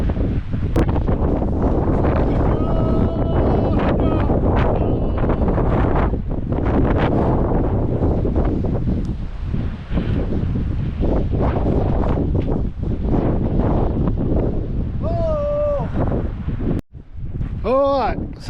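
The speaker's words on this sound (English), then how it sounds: "You'll notice how blowy it is." Strong wind at a sandstone coastal lookout in Western Australia, loud gusts buffeting the microphone nearly the whole time, with people talking intermittently underneath.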